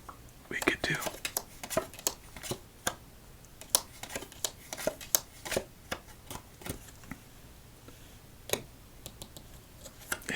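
Rapid riffling and snapping of playing cards being given a casino-style shuffle in bursts, close up, with soft whispered talk throughout.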